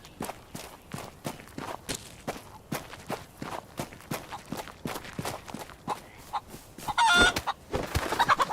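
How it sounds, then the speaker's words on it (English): Chicken clucking in the survival video game DayZ, scattered clucks over a steady run of close footsteps on the ground, with a louder burst of clucking and flapping near the end. "Go straight for that chicken."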